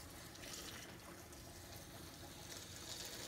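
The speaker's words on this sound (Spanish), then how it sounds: "aquí los voy a poner a remojar con agua del filtro aquí," Filtered water pours in a steady, faint stream into a container of dried chiles set to soak in a home kitchen, a continuous trickle without any voices.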